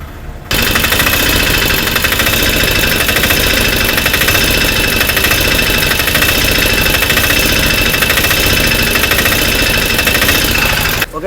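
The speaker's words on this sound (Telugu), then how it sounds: "దీని ఇంజన్ బీడింగ్ బాగానే ఉంది" A motorbike engine idles steadily and loudly, a continuous rapid thudding beat with no other sounds.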